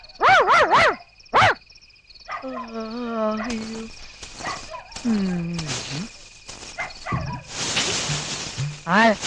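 Several sharp dog barks ring out at night near the start and again at the end, with someone talking in between.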